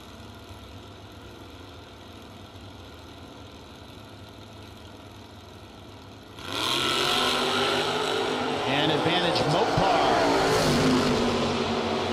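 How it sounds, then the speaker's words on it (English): Drag racing at a St. Patrick Classic event: a 67 Camaro and a 65 Dart idle at the line, then engines roar hard and loud as the cars launch, the rumble staying strong to the end. "Cannon, the 67 Camaro, coming to you from Richmond."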